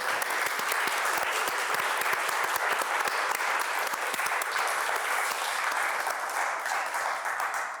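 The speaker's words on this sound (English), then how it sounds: "So I think we should begin by applauding Kevin." Sustained, dense applause from a crowd, loud and steady throughout with no pauses.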